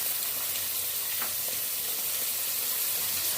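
Green onion and peas fry in a pan with a continuous bright hiss of sizzling oil, close and even, with a couple of faint stirring clinks and no talking.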